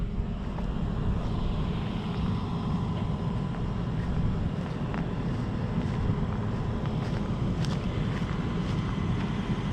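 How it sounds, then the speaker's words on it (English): Strong wind buffets the microphone at an outdoor construction site where roof trusses are being set with an excavator, a steady low rumbling roar that fills the whole clip with no voices. "There's that wind."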